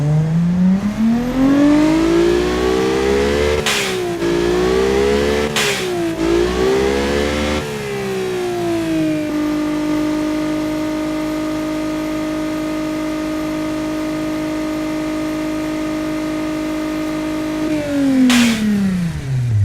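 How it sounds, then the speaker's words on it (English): Alfa Romeo Giulia 2.9L engine in a video game revving hard through repeated climbs and drops, then holding a steady high whine before a final rev, loud and close with no talk. "That's not bad for a high performance engine."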